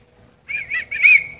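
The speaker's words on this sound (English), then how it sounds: "It's a whistle. I dare whistle in Walmart." A toy whistle blown inside a Walmart store, a loud, close, shrill warbling tone in three quick pulses that rises in pitch and holds at the end.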